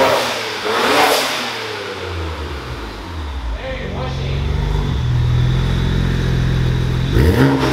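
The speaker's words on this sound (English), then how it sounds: "this is a VRSF exhaust, so it sounds different." A BMW N54 twin-turbo engine fitted with a VRSF exhaust is revved in a garage, rising and falling in a few close, throaty blips under a faint voice.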